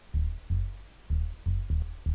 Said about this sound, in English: Got that funky bass line,